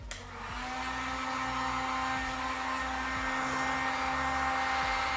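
A heat gun blows hot air onto the edges of a graphics decal on a 2002 Honda CR250 motocross bike, a loud, steady close-up whooshing drone that runs unbroken throughout.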